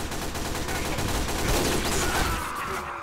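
Continuous rapid SMG fire in Team Fortress 2, a steady rattling burst of shots at moderate level lasting about three seconds, then ending.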